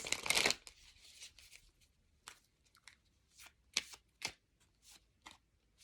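Karma oracle cards are shuffled in a crisp riffle burst, followed by a run of separate light slaps and flicks of card stock, close and fairly quiet with no talking.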